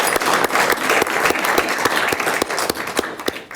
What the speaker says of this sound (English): if we could just give a round of applause to our council members